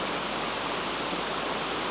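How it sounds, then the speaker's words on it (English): Steady, broadband rush of water pouring outdoors, continuous and fairly loud with no breaks or voices, like a waterfall or fast stream. "to hear this water rushing, feel the coolness of the air"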